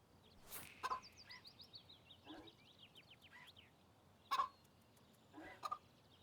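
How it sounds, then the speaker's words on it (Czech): A chicken clucks repeatedly in short irregular bursts, with a few louder calls standing out over a low steady background hum. "Toto zabijácké kuře sice vypadá hrozivě, ale v klidu se nechá hladit."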